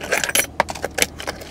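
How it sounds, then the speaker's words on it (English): Canadian coins jangle and clink in a van while parked by a town meter, a quick burst of bright metallic rattles lasting under two seconds, close and fairly loud with no talking. "I think I do have some Canadian coins in here"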